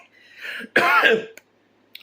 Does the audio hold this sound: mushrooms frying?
no